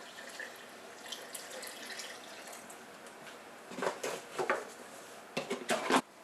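Homemade carpet cleaning solution, heated and dissolved, is poured into a Rug Doctor-style machine reservoir, heard as intermittent splashing bursts of liquid, faint at first and louder toward the end.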